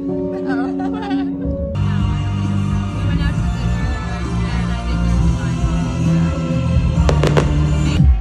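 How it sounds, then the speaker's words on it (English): Fireworks bang and crackle in Italy, a busy sequence of pops and bursts at moderate distance, with a few sharp close cracks late on and voices and crowd noise mixed in beneath. "now the fireworks are starting."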